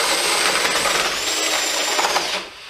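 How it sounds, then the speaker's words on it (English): A Makita DTP141 impact driver in drill mode, first speed, bores through decking with a loud, sustained high motor whine and grinding for over two seconds, then cuts off abruptly. "So that was in drill mode, first speed."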